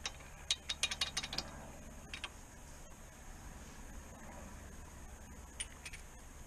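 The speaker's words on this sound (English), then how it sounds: "I'm just going to take the worst of the slack out before I put the torque wrench on." Ratchet wrench taking slack out of tow bar bolts on a caravan hitch, a quick burst of close clicking strokes early on, then a quieter stretch with a few faint clicks near the end.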